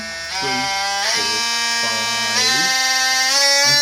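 A Worx WX693 brushless oscillating multi-tool buzzes steadily, its motor pitch climbing in stages as the speed is stepped up through six settings, with no talking.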